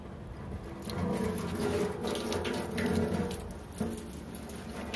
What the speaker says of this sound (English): the water is coming out with the greater extent